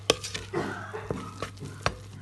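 Blueberry muffin batter being stirred in a bowl, a few soft scraping strokes with sharp utensil taps against the bowl at irregular intervals, close and fairly quiet.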